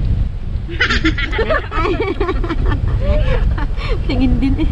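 Gusty wind rumbles steadily against the microphone while several people talk and murmur nearby.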